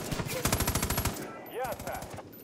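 Machine gun fire in Far Cry 5, a rapid close burst of evenly spaced shots lasting over a second, followed by scattered game sounds and a short voice.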